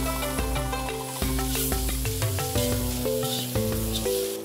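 Ginger, onion and garlic being sautéed in a pan, a soft sizzle sitting under louder background music.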